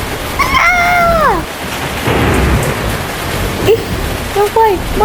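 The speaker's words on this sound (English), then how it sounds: "There's a thunder and outside." A loud, steady downpour and deep rolling thunder from a Toca Life World game storm run throughout, with swooping, voice-like tones sliding over the rain at the start and again near the end.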